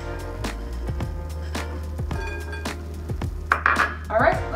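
Pecans sprinkled into a strawberry salad in a bowl, heard as a series of sharp clinks and taps against the dish, irregular and close, with some rustling toward the end.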